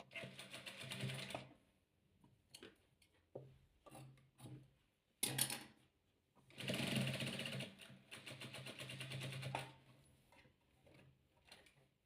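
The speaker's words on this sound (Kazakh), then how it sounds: "Төрт қабырғасы да бір тегіс жасыл материалдан тігеміз." A sewing machine stitches green fabric for patchwork in short bursts of rapid, close mechanical whirring, separated by quiet pauses with light handling and rustling of cloth.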